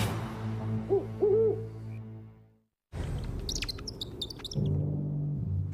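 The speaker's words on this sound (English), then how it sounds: "The owl is coming." An owl gives a couple of short, soft hoots early on over a low, steady hum, followed after a brief silence by thin, high chirps and tweets.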